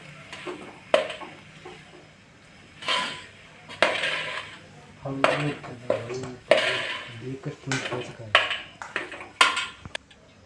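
Vada pav potato filling stirred in a pan at home, with scattered metallic clinks and scrapes of a spoon against the pan in irregular bursts, fairly faint, amid quiet background.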